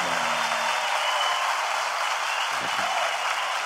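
Audience applause at a 30th-anniversary concert, a steady wash of clapping from a large crowd filling the whole span with no break.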